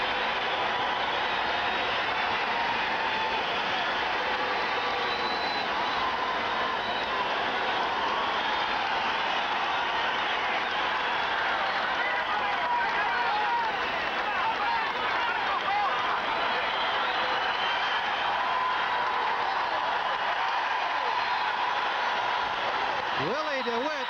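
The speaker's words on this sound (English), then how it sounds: "you're listening to the reception for Canadian champion Willie Dewitt" A crowd of nearly 7,000 fills a boxing arena in Regina, greeting a Canadian heavyweight champion with a steady, dense roar and cheering that runs unbroken for the whole stretch.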